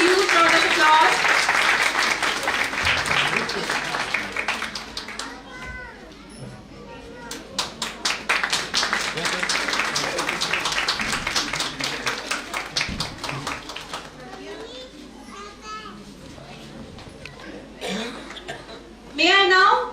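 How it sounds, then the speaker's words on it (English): Parents at a school annual function break into applause, with a burst of clapping at the start and more rounds of brisk claps through the middle, mixed with speech and scattered chuckles and ending in a loud final burst. "Parents, please give them a huge round of applause."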